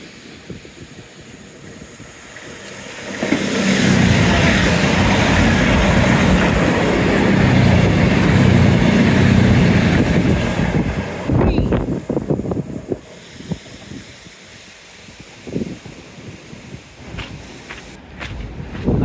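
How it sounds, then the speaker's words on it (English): A train rumbles past along the Teignmouth seawall, a broad roar building over several seconds and fading, mixed with gusting wind buffeting the microphone and nearby surf. "Train number one, lovely."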